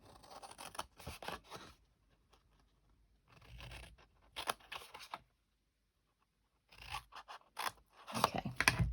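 Scissors cut card along score lines for a hand sanitiser gift bag, sounding as short bursts of crisp snipping and rasping separated by brief silences, close and quiet.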